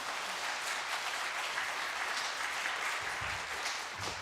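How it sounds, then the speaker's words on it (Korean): Welcoming applause from a church congregation at a teachers' seminar during an afternoon service, a steady, moderately distant sound of many hands clapping, with some low thumps near the end. "우리 그리스도의 사랑으로 환영의 박수 이렇게 하도록 하겠습니다"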